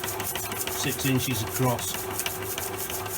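A machine bores out a relief in 2-inch-thick stock, giving a steady mechanical whir with a few rhythmic knocking bursts near the middle, while someone talks over it.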